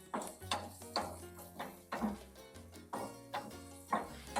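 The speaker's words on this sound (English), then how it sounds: "We're just going to cook this onion and pepper until the onions are just about translucent." Onion and pepper cooking in a pan make a repeated rhythmic clatter of a utensil stirring and scraping against the pan, about two strokes a second, over a light sizzle.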